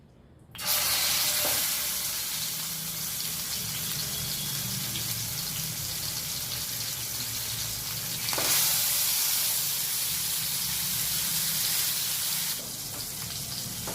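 Chicken leg pieces fry in plenty of hot oil over medium heat, giving a loud, steady sizzle that runs almost the whole time, with small stirring shifts and a brief dip near the end.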